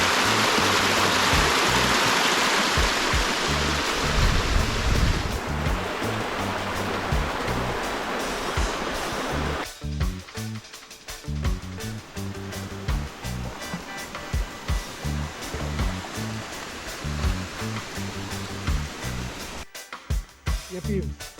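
Water flowing in a cave in Westmoreland, a loud steady rushing roar at first that gives way to choppier surging and splashing, with people talking faintly underneath.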